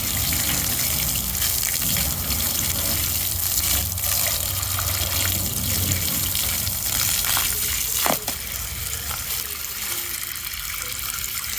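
A garden hose rinsing an aluminum jon boat after an aluminum brightener treatment: a steady, loud hiss and splash of spraying water runs the whole time, with one brief sharper clatter partway through.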